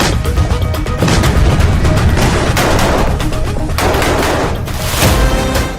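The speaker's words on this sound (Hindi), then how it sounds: "देखिए राफा फ्रंट पर बारूदी तांडव का लेवल कहां तक पहुंच चुका है।" Heavy gunfire and explosions on the Rafah front in Gaza, a loud, dense, continuous barrage of cracks and booms with no break.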